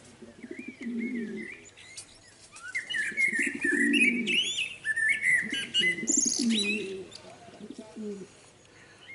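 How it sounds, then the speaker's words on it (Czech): A common blackbird sings from a house roof, bright fluting phrases repeating clearly over several seconds while a pigeon coos softly beneath in repeated low bursts. "Poslouchejte, jak kosa krásně zpívá na tom špice baráku."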